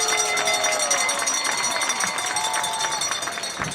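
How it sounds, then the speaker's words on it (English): A crowd in the stands at a high school football game, Walkertown at Reidsville, applauds and cheers for an honored inductee and his family, a continuous broad roar of clapping and cheering with whistles and voices. "Let's give Mr. Gentry and his family a big round of applause"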